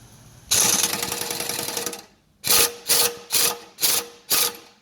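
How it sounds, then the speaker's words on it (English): An air impact gun drives a bushing into a Jeep Cherokee XJ front Dana axle, with one long loud hammering burst followed by five short, evenly spaced rattling bursts, close up and without talk. "I'm going to give the air gun a little squirt and you can see it come together"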